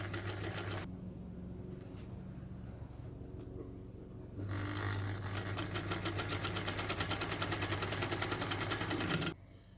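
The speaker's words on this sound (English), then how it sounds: "now we're just going to sew that last bit together, making sure that our seams are all lining up" A sewing machine stitches the last seam of a Capital T quilt block, with a quiet pause before a close, rapid, even run of mechanical stitching that stops abruptly near the end.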